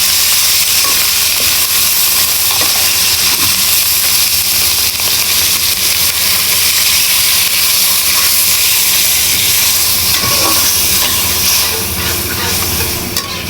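Shrimp added to frying onions and chilies in a pan set off a loud, continuous hiss and sizzle that stays steady and close, with faint scraping now and then.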